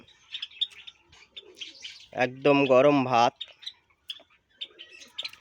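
Budgerigars in a colony give scattered, light chirps and tweets throughout, with a voice speaking briefly over them in the middle.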